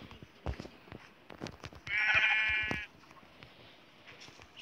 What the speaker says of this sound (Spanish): Mata la oveja vos.